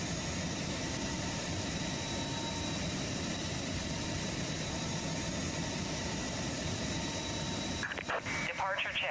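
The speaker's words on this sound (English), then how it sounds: "I'll wait to listen to these LEAP 1A engines power up." Twin CFM LEAP-1A turbofan engines spooling up on an airliner during pushback in Microsoft Flight Simulator, a steady broadband roar with a faint whine throughout, then easing and breaking up in the last second.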